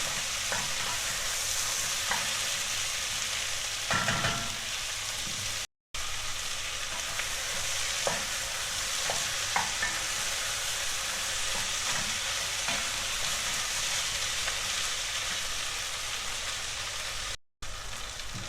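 Chopped onion and bell pepper fry in a pan with a steady, close sizzle. Occasional stirring scrapes break through, and no one speaks.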